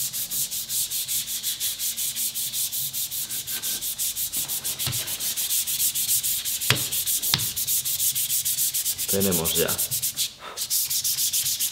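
Sandpaper rubbing steadily across the surface of a sharpening strop, a continuous close scratchy hiss in long even strokes, with a few faint clicks and a brief pause near the end; a voice speaks briefly.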